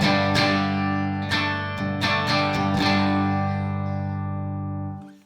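Electric guitar played through a bypassed pedalboard into a Morgan 35-watt amp and a Dual Citizen, a few strummed chords ringing clean and full with a sharp pick attack, then sustaining and fading out; no talk.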